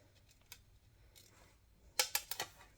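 Glass cutter scoring and clicking on a curved cut through sheet glass: a few faint taps early, then a quick cluster of four sharp, close clicks near the end, quiet and alone.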